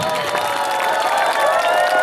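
A large crowd applauds steadily at a combat hopak dance performance while voices cheer and shout throughout, loud and sustained.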